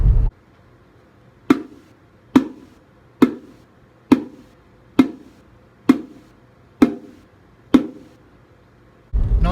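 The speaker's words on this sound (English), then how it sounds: "played on a pair of congos, it would sound something like this." A pair of congas struck in a steady series of evenly spaced beats, about nine single hits with ringing decay, close and alone.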